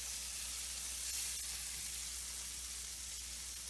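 Seasoned steaks hiss and crackle steadily in a hot skillet, a continuous, fairly quiet frying sizzle with no talking.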